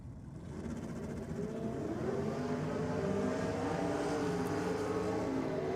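Drag racing cars, one of them a Honda, roar down the strip at a Sydney drag racing event, a sustained loud engine drone rising in pitch as they accelerate away.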